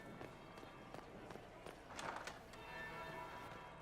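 A bell rings in the Dragon Age video game, faint and distant, mixed with quick running footsteps and light in-game movement noise, no voices over it.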